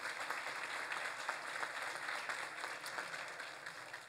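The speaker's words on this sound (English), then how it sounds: "Give them a round of applause for their support this morning" A roomful of people at a morning Chamber of Commerce public safety awards event gives a steady round of applause, clapping evenly and alone throughout before it tapers slightly at the end.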